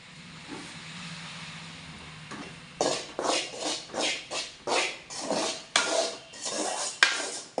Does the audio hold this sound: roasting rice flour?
yes